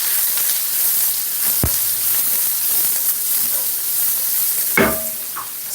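Onion and garlic sizzling in a hot pot, a steady broadband hiss of frying with a couple of clinks of a utensil against the pot.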